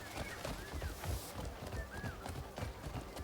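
A horse in the video game Crimson Desert, decked out with stirrups and deluxe gear, trots along with steady, fairly faint clip-clopping hooves under ambient game sound.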